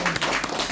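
Applause breaks out from the attendees as an annual general meeting and awards ceremony comes to a close, a brief dense burst of many hands clapping at a steady level.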